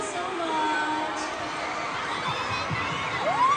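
Concert crowd at the Araneta arena: a dense, steady roar of cheering and screaming fans, with whistles and shouts rising out of the din.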